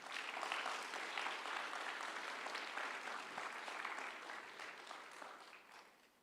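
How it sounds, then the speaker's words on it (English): An audience at a TEDx university conference claps for a speaker in a steady, full round of applause that holds strong before tapering slightly toward the end. "please give her another round of applause"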